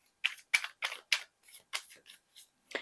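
A tarot card is drawn from the deck as a series of about ten quick, crisp paper flicks and shuffles, close and isolated, with silence between each.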